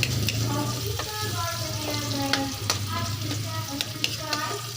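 Garlic and onion sautéing in a pan for a Filipino mung bean dish, a steady close sizzle with faint stirring scrapes and clinks throughout, no talk.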